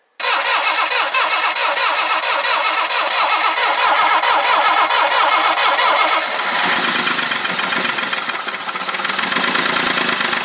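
A 1978 Jaguar engine starting after 25 years: a loud, close crank that catches and settles into a rough, steady running roar, alone without speech.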